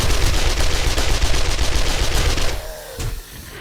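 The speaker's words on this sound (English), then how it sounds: "I'm actually gonna pull out the SMG." An SMG fires a rapid, loud, sustained burst of automatic gunfire in the 7 Days To Die zombie survival game, the rattle lasting about two and a half seconds before stopping, followed by quieter game sounds.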